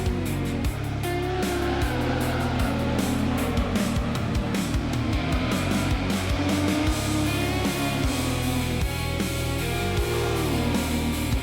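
A Nissan Skyline race car engine in the PS1 game Gran Turismo, a loud, continuous high-revving drone with rapid pitch shifts as gears change, steady and up close throughout.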